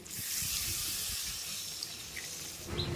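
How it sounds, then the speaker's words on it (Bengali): Water is poured into a pan of sautéed potato, pointed gourd and soybean chunks for a vegetarian curry, a continuous close splashing hiss that runs for a few seconds and then tapers off. "এবারে আমি দিয়ে দেব জল"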